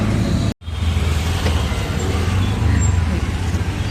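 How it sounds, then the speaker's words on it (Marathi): An auto rickshaw ride through city traffic, with a loud, constant low engine drone and road rumble, close and continuous, and a brief dropout near the start. "भेटलेला रिक्षा चालू आहे"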